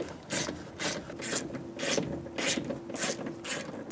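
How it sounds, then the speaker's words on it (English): Three 10mm bolts being loosened from the rear window regulator motor of a 2003-2008 Honda Pilot, a rhythmic ratcheting rasp repeating about twice a second, close and moderately loud, with no talking. "Remove the three 10mm bolts for the window motor."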